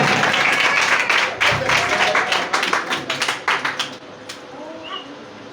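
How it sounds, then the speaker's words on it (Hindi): Loud, sustained clapping from a church congregation, dense and steady for about four seconds before thinning to scattered claps and fading out, with faint voices underneath. "जोरदार ताली बजाएं, खुदा के जलाल के"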